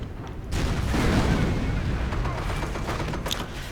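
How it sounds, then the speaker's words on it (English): A bridge is blown up with demolition charges in the Company of Heroes war strategy game. A sudden heavy boom is followed by a long rumbling roar and scattered gunfire, with a voice briefly audible at the start. "I can detonate the bridge."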